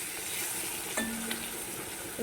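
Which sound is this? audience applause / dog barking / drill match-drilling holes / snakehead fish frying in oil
snakehead fish frying in oil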